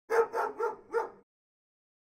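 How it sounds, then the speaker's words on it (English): A dog barks four times in quick succession, close and clear, followed by silence. "Dogs."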